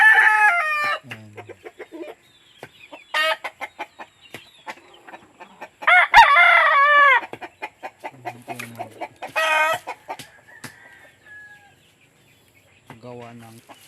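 Roosters crow loudly and chickens cluck in bursts close by at a backyard coop where about ten roosters and many chicks are kept. Calls alternate with short gaps and brief quiet stretches.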